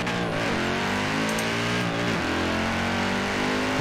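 A Mini Cooper's engine in Forza Horizon 4, a close, loud whining drone that drops in pitch twice as gears shift, then climbs again steadily, with no talk.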